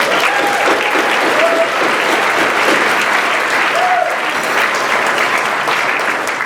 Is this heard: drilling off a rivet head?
no